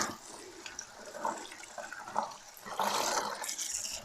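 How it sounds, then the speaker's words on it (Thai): Running water rinses a large tako octopus after it has been pounded, a steady splashing, gushing wash that swells louder toward the end, with no talk over it. "เออเอามาล้างให้มันสะอาด"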